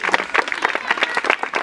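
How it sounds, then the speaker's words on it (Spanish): Audience at a circus variety show in Santa Rosa de Calamuchita, Córdoba, clapping in a dense, steady burst of applause throughout, fairly close and lively. "¡El aplauso bien fuerte!"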